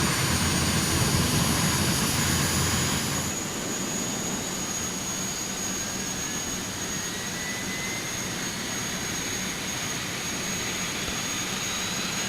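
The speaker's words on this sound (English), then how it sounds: "Okay, engine 2 is online." A simulated Bombardier jet's second engine spools up in a flight simulator game: a steady, loud broadband roar with a thin whine slowly climbing in pitch, heard alone without talk.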